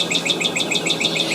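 A songbird at a home in the morning repeats a bright, rapid chirping phrase over and over, loud and close with no other sounds competing.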